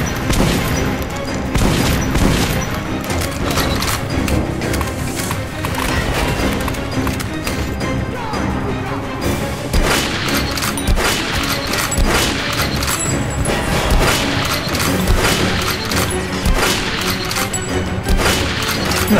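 Repeated gunfire from a weapon in Metro Last Light, a rapid series of sharp cracks and booms in irregular bursts, loud and close throughout.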